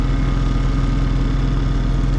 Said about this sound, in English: I'm finishing flushing the engine.